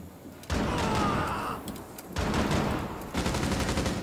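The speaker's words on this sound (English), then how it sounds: "I have no idea where I was getting shot at." Bursts of automatic gunfire in the tactical shooter Rainbow Six Siege, three sustained loud volleys with short gaps between them, close and dense.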